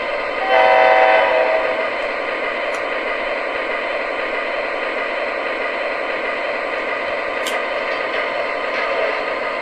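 An MTH RailKing ES44C4 model locomotive runs with a steady mechanical hum, a short horn blast near the start, and faint clicks throughout.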